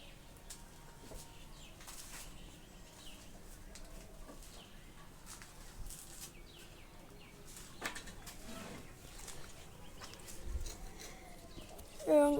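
Pigeons in a pigeon house behind a fence give soft cooing and occasional bursts of wing flapping, faint and scattered over low background noise.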